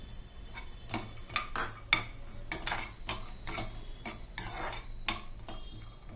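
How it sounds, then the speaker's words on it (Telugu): Cashews and raisins frying in ghee, heard as a run of close, sharp metallic clinks and scrapes of a spoon against the pan over a faint background. "దోరగా వేయించుకోవాలి కాజు కిస్మిస్ని దోరగా వేయించుకోవాలి"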